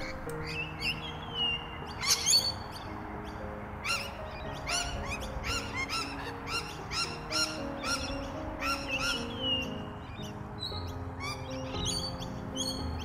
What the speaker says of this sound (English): Rainbow Lorikeet